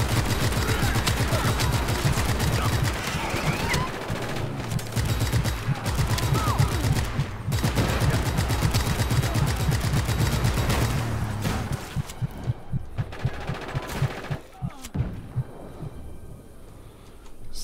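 Sustained enemy gunfire in the video game Just Cause 3, a dense, continuous rattle of rapid shots over heavy rumbling, thinning toward the end into scattered separate shots.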